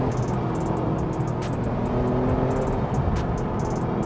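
Porsche 911 991 Gen 1 GT3 RS with a PDK seven-speed gearbox, its engine droning steadily and loud throughout while driving, heard from inside the car with no talk.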